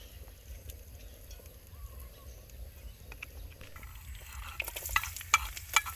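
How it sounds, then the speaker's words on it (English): Oil heating and sizzling in a pan before red garlic is fried for chili sauce, a low steady crackle with sharper pops and spits growing louder toward the end, close up with no talking. "Start to fry our red garlic. First we add oil."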